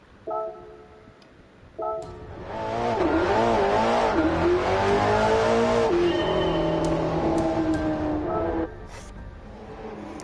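Engine of a car driven in Gran Turismo 7, lacking GT3-level brakes and handling: two short blips, then a loud sustained run through the gears with the pitch sweeping up and shifting, ending in a drop to a quieter hum.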